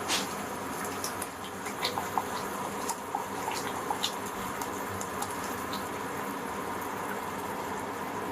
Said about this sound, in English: This our water is boiling.